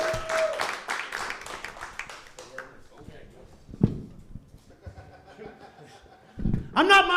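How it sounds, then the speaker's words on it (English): An audience at a comedy club claps and cheers briefly at the start, the applause fading quickly into scattered noise before a comedian starts speaking loudly into a microphone. "Please give him a round of applause."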